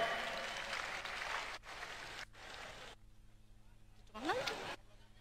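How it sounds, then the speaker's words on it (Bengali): A crowd applauds at the Bangladesh National Film Award 2020 ceremony, a dense rattling clap that breaks off partway through, then a faint voice and a short burst of sound close the moment. "তাদের সবার জন্য একটি জোরদার করতালি হবে।"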